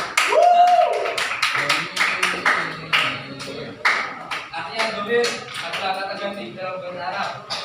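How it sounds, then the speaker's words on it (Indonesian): A classroom of vocational school students in Semarang claps their hands together in a loud burst of many overlapping claps, close by, with a teacher's voice and a brief tone mixed in and talk continuing afterward. "Nah, bagus sekali tepuk tangan."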